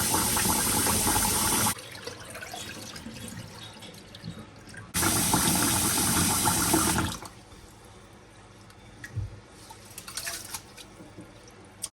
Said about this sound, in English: I'm now going to go ahead and wash my rice until it loses all that starch